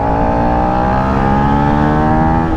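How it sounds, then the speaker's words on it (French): A Suzuki SV650 2016 V-twin motorcycle engine pulls hard under acceleration, its steady, close, loud drone rising slightly in pitch throughout with no one talking over it. "C'est une sonorité particulière du bicylindre en V."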